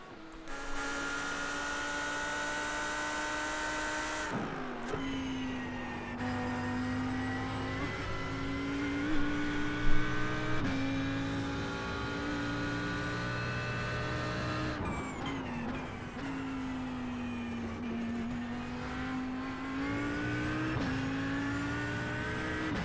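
GT3 race cars roar through a racing video game, including a Lamborghini ahead, with a continuous engine drone that climbs and drops through repeated gear changes and revs, alongside occasional tire noise, loud and steady throughout.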